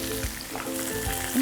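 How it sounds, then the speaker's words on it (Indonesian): Battered mushrooms frying in hot oil for crispy mushrooms with balado sambal, a steady close sizzle with bubbling crackle throughout and occasional soft stirring thuds, no one speaking. "Nah baru digoreng di minyak panas."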